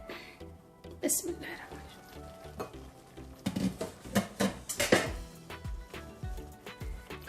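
Spinach and potatoes stirred in a cooking pan, soft irregular scrapes and clinks of a utensil against metal, fairly quiet with a low kitchen background.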